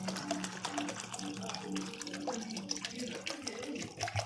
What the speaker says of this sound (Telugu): ఇప్పుడు ఇందులో వాటర్ యాడ్ చేస్తున్నా.